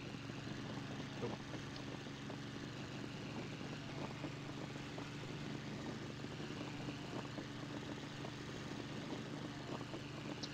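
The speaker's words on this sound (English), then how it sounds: "That, my friends, is the sound of an engine dying." Inside a fighter plane in the flight game IL-2 Sturmovik 1946 at about 10,000 feet, a failing engine drones in a low, steady, rough hum with faint crackles, heard quietly without any talking.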